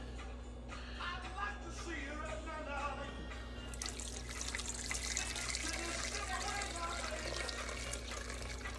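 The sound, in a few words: starch water strained from potatoes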